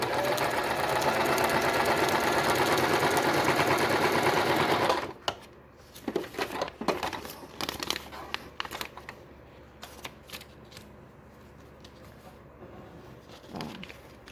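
A sewing machine stitches a quilt block in a loud continuous run for about five seconds, then stops, leaving scattered handling clicks and fabric rustles.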